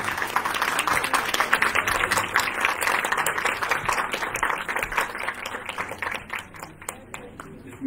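Audience applause greets a guest at a Urdu poetry gathering hosted at Fatima Jinnah Women University, dense clapping filling the hall steadily before thinning slightly toward the end.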